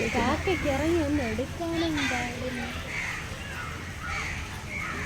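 Crows caw repeatedly nearby at Thiruvananthapuram Zoo in Kerala, harsh calls overlapping with children's voices and chatter throughout.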